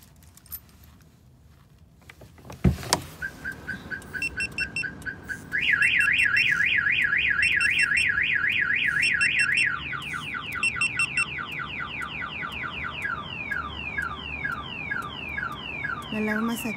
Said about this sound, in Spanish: La alarma se activa. Manda la señal al control. Vibra, hace sonido.